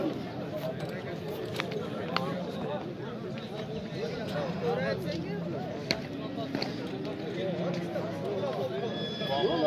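A three-year-old horse at a busy horse market whinnies amid constant crowd chatter and background bustle, the neigh rising briefly over the voices.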